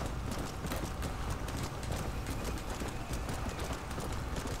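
Rapid clip-clop of a horse's hooves galloping steadily in a video game, a continuous rhythmic drumming that stays close and even throughout with no voices over it.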